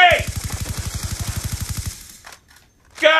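Rapid automatic gunfire in Call of Duty Black Ops 2, a fast regular burst of about twenty shots over two seconds, then a pause before a shouted voice comes in.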